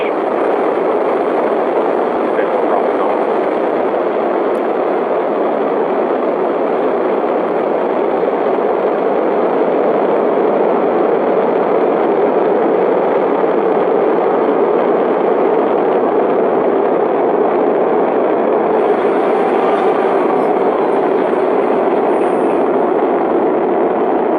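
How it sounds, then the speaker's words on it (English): A SpaceX Falcon 9 rocket lifting off, a loud, steady broadband roar that holds for the whole stretch without breaks, dense and rumbling like a distant heavy engine. "Ignition, liftoff. Vehicle is pitching downrange."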